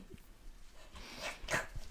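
A small puppy gives a few short yips and whimpering barks indoors, near and fairly quiet, with faint household background.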